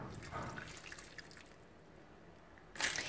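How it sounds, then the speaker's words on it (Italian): Water poured into a pan of cut vegetables with cherry tomatoes, spring onion and oil, giving a soft, faint trickle and splash that swells briefly near the end. "Acqua."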